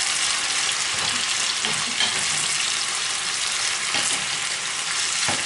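Beef loin with peppers and soy sauce is stirred in a hot sizzling pan, loud continuous frying hiss broken by occasional scraping and knocks of the utensil against the pan.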